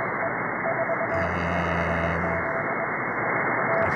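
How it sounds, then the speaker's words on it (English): A Morse code signal received through a software-defined radio: faint keyed tones pulse on and off over a constant loud bed of radio static, with a brief heavier burst of interference partway through. "So this is some kind of Morse code too."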